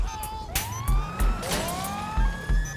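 A police car siren in the video game GTA 5 wails with rising and falling sweeps, loud and close, over rumbling engine noise and a few low thuds.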